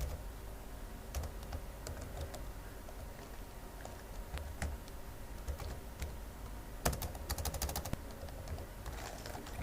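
Keys clatter on a computer keyboard while a PHP script is written, irregular quiet taps with a quick burst of rapid strokes toward the end over faint room hiss.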